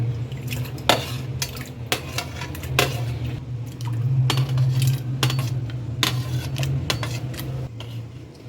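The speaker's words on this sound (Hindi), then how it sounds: "अब मैं करती हूँ मिक्स दाल के अंदर।" Lentils and spices being stirred in a pot, with repeated metallic scrapes and clinks of a spoon against the pot over a steady low hum from the stove, close and moderately loud, no talking.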